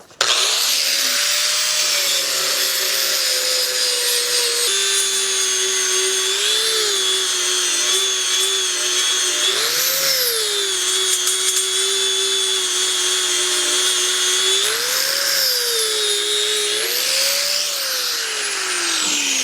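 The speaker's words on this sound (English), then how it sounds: "I'm going to hit the inside of the pilot hole one, and then I'll grind down the rest of them." A grinder works down filled pilot holes on a metal Thunderbolt 1000(T) horn, a loud continuous high-pitched whine that dips and rises in pitch as it bears into the metal, close up and without talk.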